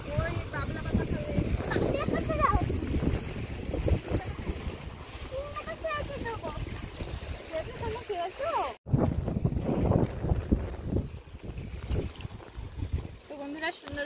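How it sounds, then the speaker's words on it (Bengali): Choppy river waves slap around a boat on the Matla river in the Sundarbans, a steady rushing wash with wind buffeting the microphone, and voices can be heard over it. "আর এখন দেখো কেমন ঢেউ হচ্ছে"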